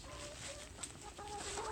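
Backyard chickens clucking, several soft overlapping clucks and short tonal calls over a low steady background, fairly faint and close together.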